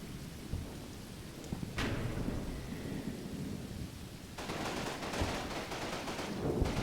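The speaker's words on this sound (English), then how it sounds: "the machine gun HQs always shoot off their rifle grenades if you give them a targeted order like that" Machine gun HQ teams firing rifle grenades in the WWII game Combat Mission: Battle for Normandy, heard as a steady rumbling roar of distant explosions and battle noise, with a sharp crack partway through and a heavier surge near the end.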